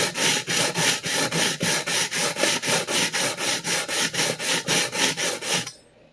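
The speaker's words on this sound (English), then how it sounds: "You can literally saw blade edge down right into a diamond plate." A carbon steel edge of a vintage Clyde Cutlery chef knife being sawed back and forth into a diamond sharpening plate, making a fast, even series of about twenty close, loud rasping strokes with no talking.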